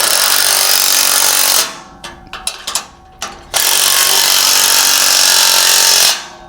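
A power tool with a 3/4 inch socket tightens the coupler nut on a Malone MegaSport LowBed kayak trailer. Loud, harsh hammering bursts run for a second and a half, then a few short stuttering pulses, then another long sustained burst.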